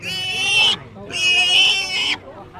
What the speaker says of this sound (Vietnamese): Có con lợn.